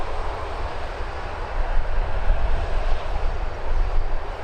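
Aircraft departing Birmingham Airport, a steady broadband engine roar that swells slightly as it goes, with no talk over it.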